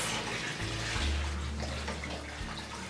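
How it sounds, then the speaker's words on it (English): Water from a hose pouring into a goldfish tank during a refill, a continuous close gushing and splashing rush with no talking. "So when you're refilling the tank, don't have the hose up like this."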